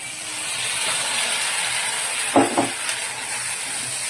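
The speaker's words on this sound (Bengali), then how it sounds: "জিরাটাও হালকা করে ভেজে নেব" Steady hissing sizzle of cumin paste frying in a hot pan, with a couple of brief stirring scrapes midway.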